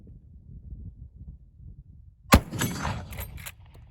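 A single sharp report from a black powder .45-70 rifle cracks out after two seconds of quiet outdoor rumble, followed by a short rolling echo and faint rattling.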